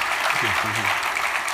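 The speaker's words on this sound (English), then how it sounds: "can we give Dr. Ware a round of applause?" Audience applause for a guest speaker at a question-and-answer event, a steady wash of clapping filling the room while someone briefly speaks thanks over it.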